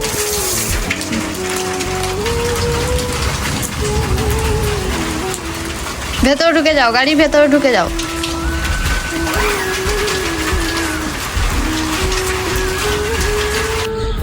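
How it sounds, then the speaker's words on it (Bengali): Steady rain falls outdoors in a village at about five in the afternoon, with cows nearby. A continuous wash of drops runs throughout, a person calls out briefly, and a wavering tonal cry rises above the rain midway. "বৃষ্টি পড়ছে যে।"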